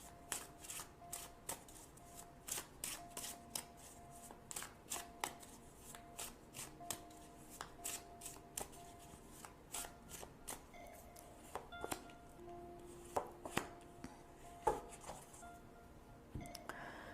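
Tarot cards being shuffled and drawn during a reading, a run of quick crisp riffles and slaps close up, with a few sharper card snaps near the end and no talking.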